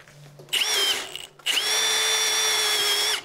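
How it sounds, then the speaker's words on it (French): A cordless drill with a small 5-amp battery bores into oak in two bursts: a short whine, a brief pause, then a longer steady high-pitched run that stops abruptly, close and clear. "cette machine n'a aucune difficulté pour le perçage donc, dans du chêne"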